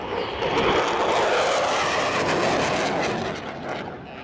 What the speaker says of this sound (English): Ladies and gentlemen, the 2008 Typhoon.